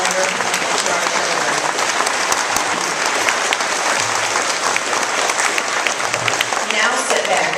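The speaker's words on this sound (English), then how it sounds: "They need a nice round of applause for all of your children." Audience applause at a school May Day program, sustained, dense clapping from a large crowd with some background voices mixed in, steady throughout before easing slightly near the end.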